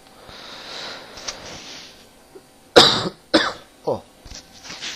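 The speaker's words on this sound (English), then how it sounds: "I've got a bit of a cough." Three sharp coughs close to the mic, with a fainter throat noise after, following a stretch of quiet background sound during Banjo-Kazooie gameplay.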